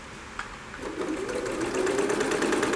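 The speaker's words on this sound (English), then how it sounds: "And when you come into a seam, make sure that the seam is open and flat, and just carry on sewing over it." A sewing machine stitches upholstery for a shaped bar stool, a steady rapid mechanical whirring that starts and speeds up, running close and alone.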